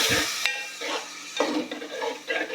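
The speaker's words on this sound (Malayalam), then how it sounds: "ഇനി നമുക്ക് ഇതെല്ലാം കൂടെ ഒന്ന് ഇളക്കി കൊടുക്കാം" Tomatoes and greens frying in a pan are stirred, with a busy sizzle and repeated scraping strokes of a spoon recurring in an uneven rhythm, close and fairly loud, with no talking.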